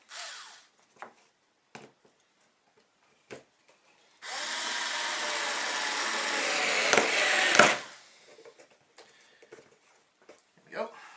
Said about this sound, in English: just drill into the board